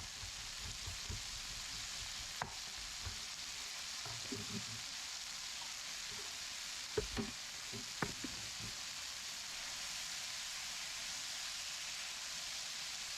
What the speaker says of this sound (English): We're going to throw some garlic in.